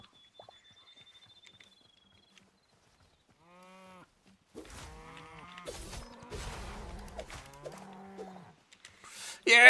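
Cows moo in the video game Hytale, a few drawn-out, wavering calls close by with short gaps of near silence, then a louder cluster of overlapping moos and game noises.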